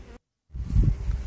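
Honeybees buzzing at the slotted entrance of a tree hive clogged with dead bees, a dense close drone that cuts out briefly to silence and then returns louder and steadier.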